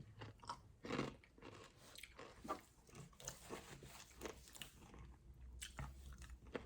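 Bites into crunchy Popeyes fried chicken skin, a few crisp crunches followed by steady close chewing, fairly quiet with no talking.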